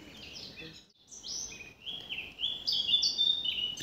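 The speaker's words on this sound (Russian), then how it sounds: "Птицы поют, велодорожка красивая." Small birds chirp and trill repeatedly along a bike path outside Warsaw toward Jabłonna. The high, bright calls are fairly close but quiet, over faint outdoor background hiss, with no talking.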